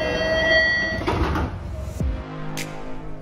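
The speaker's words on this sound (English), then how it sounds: "these old cars make a very interesting noise when the doors close." Old Boston Red Line subway car doors closing: a loud buzzing chime of steady tones, then a heavy thud as the doors shut, followed by a faint hiss.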